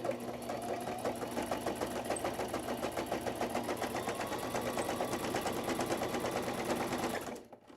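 A sewing machine runs steadily, stitching pieced paper strips with a fast, even mechanical chatter that holds for about seven seconds and then stops.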